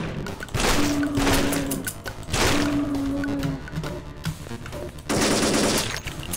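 In the zombie mode of the Thing Thing Arena video game, a shotgun fires in clusters of sharp blasts, with a ringing tone and mechanical clatter between the volleys.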